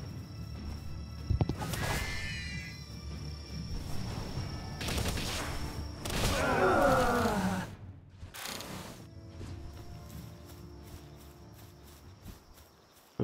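Bursts of gunfire in the survival game Palworld, several loud volleys and clattering shots spread unevenly across the stretch, mixed with mechanical and animal-like cries, no speech.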